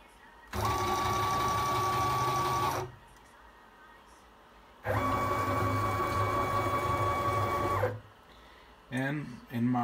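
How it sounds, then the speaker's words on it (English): Stepper motors of a DIY CNC machine driving along an axis, a steady high whine in two long runs separated by a quiet pause, near and moderately loud, with a brief mechanical buzz at the end. "So let me just back off the machine a bit."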